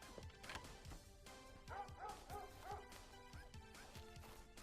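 A dog barks and yips in a few short bursts, with small whimpering sounds among them, fairly faint and heard alone over a soft background.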